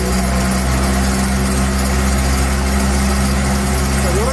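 Volvo mowing machine engine running steadily in normal mode while driving forward to mow grass, a loud continuous drone with constant hum throughout and no pauses.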